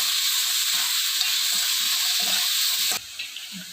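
Finely chopped onions dropped into a hot pan for prawn curry, a loud steady sizzle and frying hiss with stirring scrapes, close up, easing off sharply near the end.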